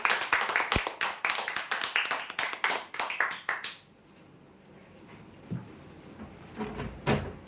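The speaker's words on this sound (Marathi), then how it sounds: "जोरदार टाळ्या होऊ द्यासाठी" An audience applauds the final winners of a weekly prize draw with a burst of sharp, uneven claps that stops abruptly, followed by a quiet room with faint movement.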